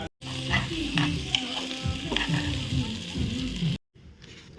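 Basmati rice frying in a pan with whole spices and onion, a dense continuous sizzle with stirring scrapes and sloshing, fairly close, then a brief quieter tail at the end; no talking.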